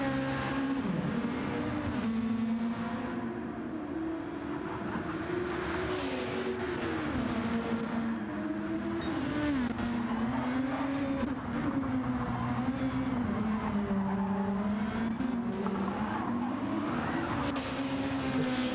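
GTO Gr.2 race cars roar continuously in a racing video game at Grand Valley, engine pitch rising and falling through gear changes and corners, loud and close with no talk.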